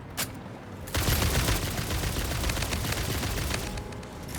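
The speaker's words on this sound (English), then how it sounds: "God, homing ammo really is indiscriminate." Homing ammo gunfire in Satisfactory, a single early pop followed by a dense, continuous volley of rapid shots and booms that carries on steadily to the end.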